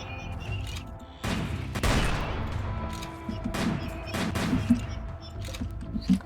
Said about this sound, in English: Cannons here, so now everybody firing focus.